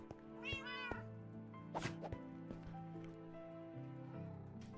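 Cats meow repeatedly in a Minecraft cat café, several rising mews over a steady game backdrop of soft tones and clicks.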